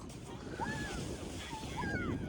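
Ocean waves wash in on an Australian beach, a steady broad surf roar with wind buffeting the microphone, while people talk faintly in the background.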